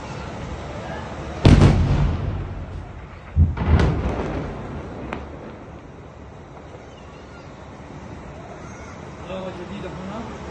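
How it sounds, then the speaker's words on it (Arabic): Airstrike explosions in northern Gaza over the Jabalia camp area, two heavy booming blasts a couple of seconds apart with rumbling decay, heard at a distance against low background noise. "غارة جديدة هنا."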